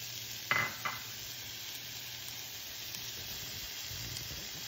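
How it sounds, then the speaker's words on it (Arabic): Onion and garlic fry in oil with a steady, even sizzle that lasts throughout. A couple of clinks of a utensil are heard near the start. "البصل والثوم على الزيت"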